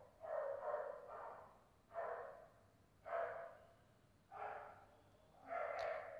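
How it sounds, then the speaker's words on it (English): A neighbour's dog barks somewhere outside, five muffled, distant barks at roughly one-second gaps, heard faintly through the room. "It's my neighbor's dog, if you hear it."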